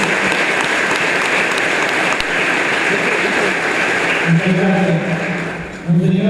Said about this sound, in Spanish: un aplauso para los bernatarienses